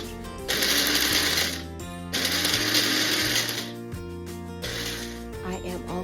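A food processor pulses to chop pistachios for chocolate pistachio cookies, sounding in three loud grinding bursts separated by short gaps, with a faint hum between them.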